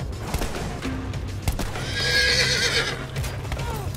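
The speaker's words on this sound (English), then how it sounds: "Oh, another horse." Horse neighing in the video game Battlefield 1, a loud drawn-out whinny in the middle of the battle, with hoof clip-clop and gunfire beneath it.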